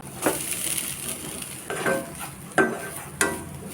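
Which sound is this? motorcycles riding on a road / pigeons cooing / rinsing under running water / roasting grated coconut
roasting grated coconut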